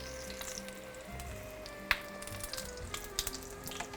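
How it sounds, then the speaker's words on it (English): Soft sizzling of oil frying for sabich, with occasional pops and crackles, heard under a low steady hum in the background. "we're just looking for that nice golden brown frying on both sides"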